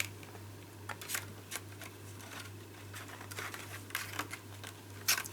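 Paper inserts for a stamped easel card being folded and creased by hand, giving close, soft crinkles and sharper paper snaps at irregular intervals over a steady low electrical hum.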